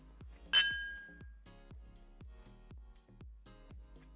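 A beer is opened once, a single sharp crack with a brief fizzing hiss, heard close over a steady rhythmic music beat that continues throughout.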